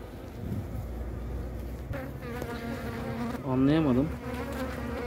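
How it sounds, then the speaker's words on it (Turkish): Aggressive honeybees swarm and buzz around an opened hive, a constant close hum with individual bees whining past the listener, one louder bee passing near the middle. "Bu arı böyle saldırgan değildi ama."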